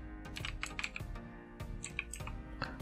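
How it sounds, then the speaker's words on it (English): Keys clack on a computer keyboard as a command is typed, quick irregular taps at close range and fairly quiet, with no speech. "Type md /backup and press enter."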